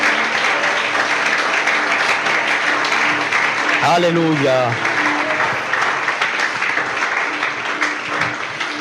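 A church congregation applauds in praise of Jesus Christ, steady loud clapping throughout, with a brief sung or shouted voice rising over it midway.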